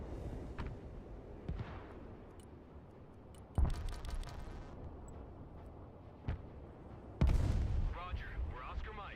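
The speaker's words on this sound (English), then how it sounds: "Very good strafe right here." Aircraft strafing run in the Broken Arrow real-time strategy video game: a low rumbling battle bed broken by several sharp, heavy booms of gunfire, with someone speaking over the action.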